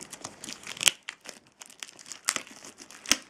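A Blu-ray box's plastic packaging is torn open by hand, producing sharp crinkles and snapping tears in irregular bursts with a few louder pops, close by and without speech.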